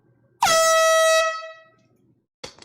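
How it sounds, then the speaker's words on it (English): One loud air horn blast lasts about a second and trails off, followed by a brief faint noise at the end. "Just a light one. Just a light air horn."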